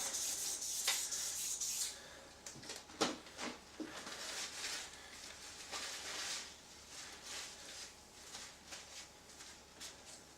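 A butcher steel being sanded by hand with 800 grit sandpaper, irregular close rasping strokes that come in bursts, quiet and alone, with some soft rubbing between passes.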